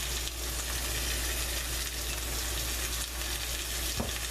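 New York strip steak searing in unsalted butter in a cast iron skillet, a loud continuous close-up sizzle and crackle with no talk.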